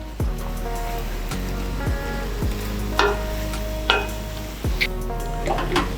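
Chicken biryani masala being stirred in a pot after mint and coriander go in, with scraping strokes, soft sizzling and clattering spoon taps in an irregular rhythm, close and moderately loud.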